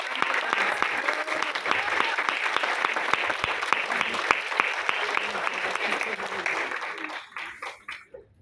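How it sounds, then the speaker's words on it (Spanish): An audience at a medical congress of mother doctors gives a doctor a strong round of applause, sustained dense clapping that fades out toward the end, with faint voices underneath. "Vamos a brindarle un fuerte aplauso a la doctora."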